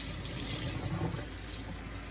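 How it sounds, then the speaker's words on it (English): Tap water pours steadily while HRV filters are rinsed, a continuous splashing gush close by with slight swells as the filters are squeezed under the stream, without talk. "Just want to rinse them out until the water comes out clear."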